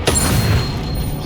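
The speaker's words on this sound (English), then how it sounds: "Expelliarmus!" Expelliarmus disarming spell cast in the video game Hogwarts Legacy, a loud booming magical blast with a sharp onset and a rumbling tail that stays heavy for about a second.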